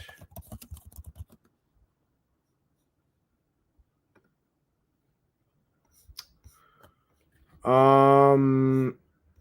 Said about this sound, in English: I'm typing in Kimbrel right now.